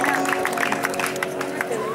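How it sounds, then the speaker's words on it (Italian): Audience at an orchestra party clapping in a dense, lively burst of applause close by, with voices mixed into the crowd noise. "Bel applauso, bel applauso."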